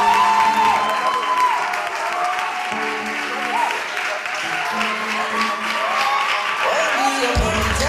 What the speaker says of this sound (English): a round of applause for Joe